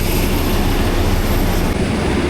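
A small Cebu Pacific propeller plane at Siargao Airport gives off a loud, steady engine roar with a broad rumbling drone, close and continuous for the whole moment.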